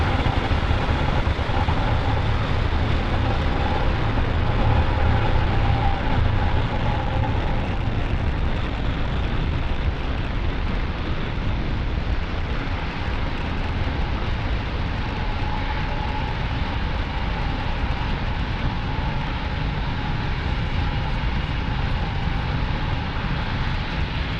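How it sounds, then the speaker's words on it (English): A SpaceX Falcon 9 rocket lifts off from Pad 40 at Cape Canaveral carrying Intelsat G-33 and G-34 satellites, producing a loud, steady, broadband roar that rumbles on without a break for the whole stretch. "and liftoff of Falcon 9"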